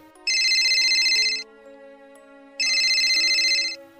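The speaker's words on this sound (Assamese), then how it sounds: "তেনেতে তাৰ ফোনটো বজি উঠিল।" A phone's ringtone plays two clear, bright melodic bursts, each about a second long, separated by a short gap, with a soft tonal backdrop between them.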